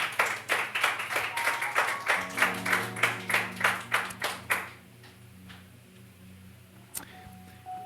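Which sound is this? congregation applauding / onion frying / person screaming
congregation applauding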